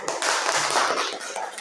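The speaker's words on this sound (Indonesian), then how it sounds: "jadi tepuk tangan kepada kelompok 1 dulu." Students in an Indonesian classroom clap for the first discussion group, a dense, steady burst of many hands applauding together, fairly close and continuous for under two seconds.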